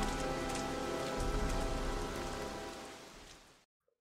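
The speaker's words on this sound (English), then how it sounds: "There is Heavy Rain outside my house right now." Heavy rain falling outside a house, a dense, steady hiss of drops on surfaces that fades out near the end.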